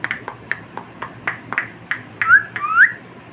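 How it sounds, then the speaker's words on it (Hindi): A pet parrot whistles up close: a run of short, sharp chirps, then two louder rising whistles near the end, with no talking. "सीटी कैसे बजाते हो"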